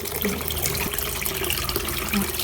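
Tap water runs steadily into a sink as mangoes are washed to rinse off their sap, a loud, close, continuous splashing stream with small bumps of fruit being handled.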